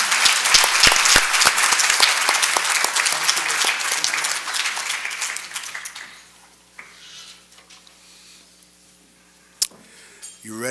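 Dense, loud applause from a spelling bee audience fills the first six seconds, then thins to scattered claps and quiet room noise with a single sharp clap near the end.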